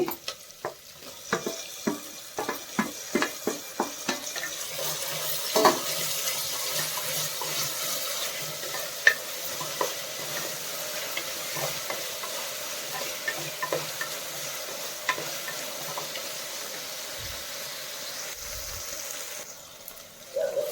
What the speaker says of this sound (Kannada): ಇದು ಸ್ವಲ್ಪ ಫ್ರೈ ಆದಮೇಲೆ ಈಗ ಸ್ವಲ್ಪ ಟೊಮೊಟೊ ಹಾಕ್ಕೊತಾ ಇದ್ದೀನಿ